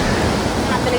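Sea waves breaking at a beach beside a row of shops late at night, a steady, continuous rushing wash of surf that fills the whole moment without pause.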